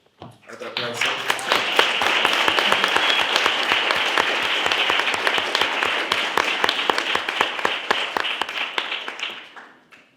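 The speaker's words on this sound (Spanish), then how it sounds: "Otro aplauso." A room of people breaks into sustained applause at a discussion event, dense clapping with a rapid regular beat running through it that swells quickly, holds steady and fades near the end.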